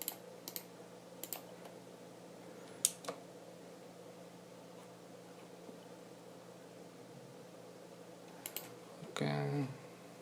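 Keys tapped on a computer keyboard while entering a terminal command on Ubuntu, a few sparse clicks and short bursts spread over a quiet room with steady fan hum, ending in a brief louder clatter.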